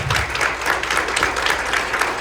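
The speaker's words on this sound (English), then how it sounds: "So let's please give a round of applause to Karina" Audience applause at a celebration of life memorial service, a steady dense wash of clapping from a crowd that holds at an even level throughout.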